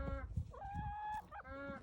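A heavy Partridge Brahma rooster makes a run of clucks followed by a drawn-out, tonal crow-like call, close and fairly quiet, alone with no talk.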